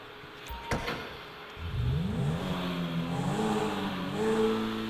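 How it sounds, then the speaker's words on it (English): Cabin view of a Pegassi Lamborghini Sesto Elemento in GTA V, its engine idling then revving up on its own with a rising, wavering whine that holds steady, preceded by a brief click. "That's the sound from the inside. You can see it just revs on its own."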